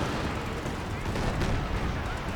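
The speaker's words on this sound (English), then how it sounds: "Double Katusha in the region, opening fire." Katyusha rocket artillery barrage in Company of Heroes 2, a dense continuous rumble of overlapping blasts and crackling impacts filling the whole stretch at steady loudness, with faint voice underneath.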